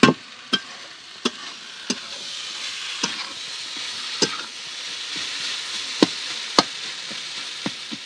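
Prawns and fish are stirred in masala over a clay stove, with a steady frying sizzle under repeated sharp scrapes and knocks of the spoon against the pot, close and fairly loud, without speech.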